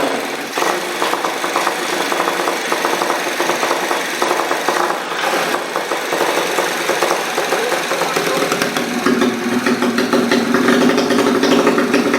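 A 200 cc Honda Karisma motorcycle running with a slip engine, idling close by with a rough, knocking mechanical clatter and uneven rasping texture that continues throughout.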